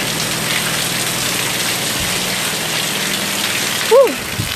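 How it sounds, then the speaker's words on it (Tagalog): Steady rain falls hard around the old D'Mall area on Boracay, a constant broadband wash of drops, with a short tonal vocal sound rising briefly near the end. "Grabe lakas ng ulan."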